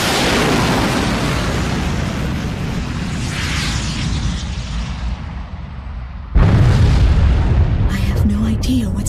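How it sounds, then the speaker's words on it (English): A huge explosion blast in the combat flight video game Ace Combat 6, a loud roaring rumble that fades slightly, then a second sudden, heavier boom hits hard and keeps roaring. "Was that a blast of wind from an explosion?"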